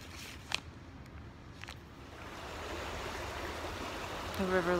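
A river flows in a steady broadband rush that swells slightly toward the end, with a couple of brief knocks early on and a faint tonal sound at the very end.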